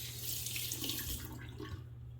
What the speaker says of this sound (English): Do a quick cold water rinse, and I'll be right back for splash and post shave.